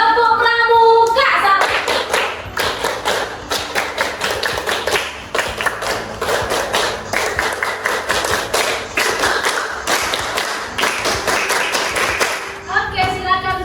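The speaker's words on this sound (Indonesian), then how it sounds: "1, 2, 3. Tepuk pramuka." A classroom of students doing the Indonesian scout clap (tepuk pramuka), a fast, patterned rhythm of loud claps and thumps in repeating groups, with a teacher's voice briefly before and after.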